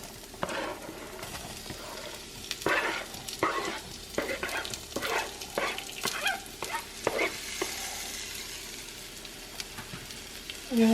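Rice frying until golden with red onion added in a pan for Mexican red rice, a soft continuous sizzle with irregular clattering stirs and scrapes of a utensil against the pan.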